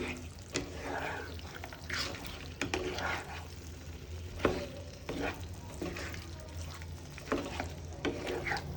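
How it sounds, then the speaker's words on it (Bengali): Masala is stir-fried with boiled mutton, potatoes and green chillies for mutton kosha, with a low sizzle broken by repeated scraping strokes of a spatula in the pan, faint and close, with no talk. "এবার ভালোভাবে কষিয়ে নেব মশলাটা মাংসের সাথে"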